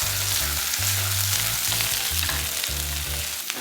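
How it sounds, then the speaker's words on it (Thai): Mushrooms, bell pepper and onion are stir-fried with chopped garlic in a hot pan, giving a loud continuous sizzle with a low rhythmic hum beneath it and light scraping near the end. "ใส่เห็ดพริกหวาน และหอมใหญ่ ผัดจนผักเราเริ่มสลด"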